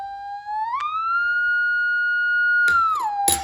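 A GroundTech A2 underground imaging detector emits an electronic tone that sweeps upward, holds steady for a couple of seconds, then drops back down, with a few clicks and crackles near the end.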